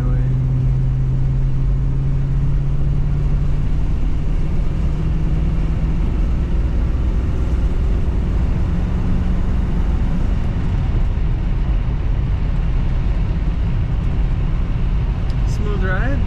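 A 1968 Chrysler Imperial Crown four-door hardtop cruises down the highway with a loud, continuous drone of engine and road noise. A voice talks over it.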